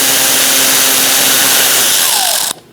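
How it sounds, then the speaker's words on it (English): A power tool with a 7mm socket whirs steadily at close range, backing bolts out of the front inner fender liner on a 2006-2011 Chevrolet HHR, then cuts off abruptly near the end. "Go back to your 7mm socket and take out these bolts."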